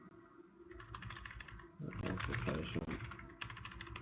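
Fast clicking keystrokes on a computer keyboard come close by in quick bursts, loudest in a dense run midway, while a person speaks briefly.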